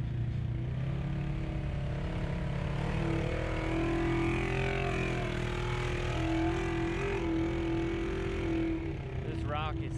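A Can-Am X3 XRC RR off-road UTV engine revs steadily while climbing slickrock fins at Moab, a loud sustained droning roar with a brief rising rev near the end.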